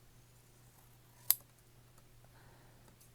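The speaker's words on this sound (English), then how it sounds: "So I'm going to cut this white border off." Scissors make a single crisp snip as they cut a white border off a sheet of paper, one sharp isolated cut in an otherwise quiet room.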